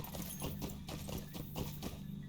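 Steady, rhythmic hoofbeats of a horse trotting along in the SLOTRO video game, moderately loud and continuous with no voices over them.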